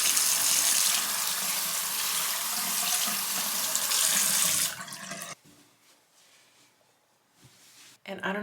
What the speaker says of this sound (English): I'm just gonna rinse off with some warm water